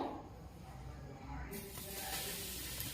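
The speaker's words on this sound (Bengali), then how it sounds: "আমি এবারে এটাকে তেলের মধ্যে ছাড়ব। তেলও প্রায় আমার গরম।" Strips of nimki dough slide into hot oil, a steady broadband sizzle and hiss that swells noticeably midway and keeps crackling close by, with no talking.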